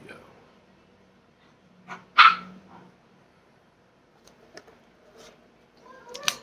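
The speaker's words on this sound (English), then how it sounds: "I got dogs barking." Dogs bark a few times, one loud bark in the middle and smaller yips and barks scattered around it, with quiet gaps between.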